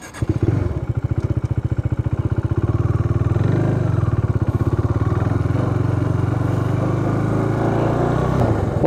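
KTM Duke 390 motorcycle engine running steadily with a loud, close, rapid single-cylinder thump and mechanical clatter, holding a sustained rough note as the bike pulls away.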